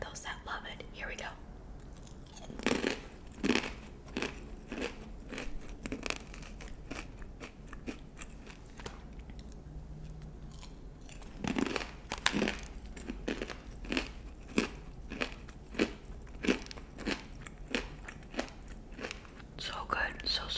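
Crunchy plantain chips with Himalayan pink salt chewed close to the mic, sharp crisp bites and grinding crunches coming in irregular bursts, with soft whispering between them.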